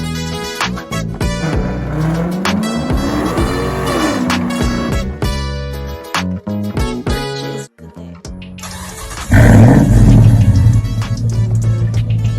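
A rebuilt Dodge SRT-4 engine, a turbocharged four-cylinder, runs on a track with a loud, steady roar that climbs and falls with revving, then surges into a heavier, rougher burst near the end.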